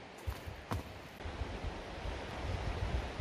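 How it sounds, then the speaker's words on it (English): A creek gurgles and rushes steadily nearby, a soft continuous watery wash with some wind buffeting the microphone and no voices. "you can hear the creek gurgling away right there"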